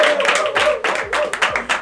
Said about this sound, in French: Allez, on va applaudir pour notre invité qui arrive.